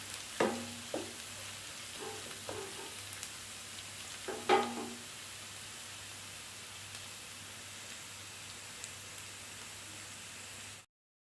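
Masala for chicken curry frying in a pan, a faint steady sizzle hiss throughout with a few soft clunks of stirring early on, then ending abruptly in silence.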